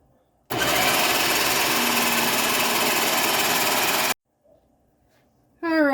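An electric mixer kneads cannoli shell dough with a loud, steady whirring drone that runs for about three and a half seconds, then cuts off abruptly.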